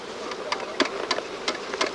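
Honey bees buzzing close by at an open hive being inspected, with repeated short rising buzzes as individual bees fly past over a steady hum.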